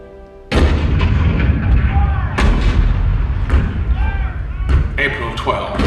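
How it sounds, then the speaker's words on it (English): Cannon fire from the Hall of Presidents show, a Fort Sumter scene: a sudden loud boom followed by repeated heavy thuds and blasts with rumbling echoes, mixed with dramatic music and voices. "The cannon spoke for war, bitter, violent, and devastating."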